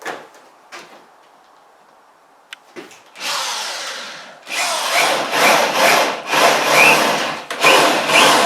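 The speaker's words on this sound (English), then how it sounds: "All I have to do is cut out the opening and put it in." Power tool cutting through a wooden shed wall to open a window space, a few light knocks first, then loud, close rasping bursts of sawing and drilling that stop and restart rhythmically.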